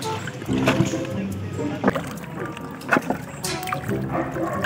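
Water sloshes and splashes against a small boat, with occasional knocks and rowing sounds close by, while people talk in the background.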